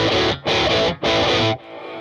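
A distorted electric guitar chord, played through a volume pedal, swells and dips in volume three times, each surge cut off sharply, then settles at a lower sustained level.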